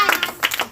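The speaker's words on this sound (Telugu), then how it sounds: "ఒకసారి గట్టిగా చప్పట్లు కూడా" A few quick hand claps ring out close by at a birthday gathering with prayer, in short sharp bursts.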